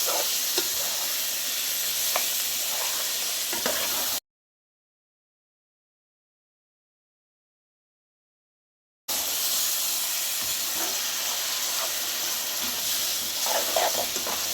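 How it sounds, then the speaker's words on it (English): Mutton frying in spices for a Durban-style curry gives a steady, close hiss and sizzle with a few faint clinks, broken by a stretch of complete silence midway before the sizzling resumes. "Now let my meat fry at least 15 minutes on the spice and all."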